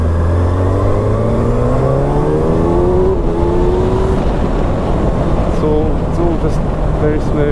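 A 2019 Kawasaki ZX-6R supersport motorcycle pulls away, its engine note climbing in rising harmonic sweeps through the gears under steady loud wind rush, close and continuous throughout.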